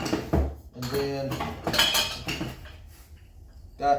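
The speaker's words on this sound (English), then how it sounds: "these are just standard porcelain bowls" Standard porcelain bowls handled and knocked together, several sharp ceramic clinks and clatters at irregular intervals, close, with brief talk in between.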